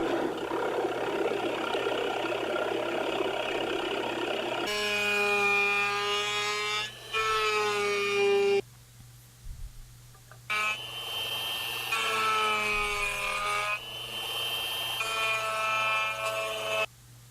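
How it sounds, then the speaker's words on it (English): A drill press bores wood out of pickup cavities in a guitar body with a buckeye burl top, its loud droning whine cutting in and out in several long passes separated by brief pauses of motor hum. "removing most of the material with the drill press, and then I'm going to go in again with the router to clean these up"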